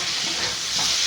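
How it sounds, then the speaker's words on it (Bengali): A spiced chicken filling with coriander leaves and roasted ground coriander and cumin is stirred in a hot pan, giving a brief, close, continuous hiss of sizzling with no voices. "একটু নাড়াচাড়া করে নিলাম"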